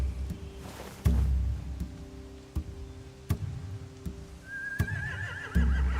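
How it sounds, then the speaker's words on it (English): Horses neighing in The Walking Dead video game, a rising whinny near the end over occasional hoof clops and ticking game ambience, moderately close and otherwise quiet. "They have horses."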